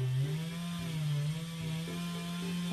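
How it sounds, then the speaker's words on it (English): Chainsaw running next door, a faint, steady buzzing drone from a distance with slight pitch wavers as it works, alone without talk. "as you are being serenaded by the chainsaw next door"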